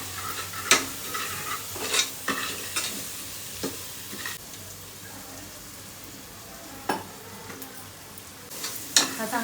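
Masala roasts in oil for pav bhaji, a low steady sizzle punctuated by sharp scraping taps of a spoon stirring against the pan, close and uneven in rhythm.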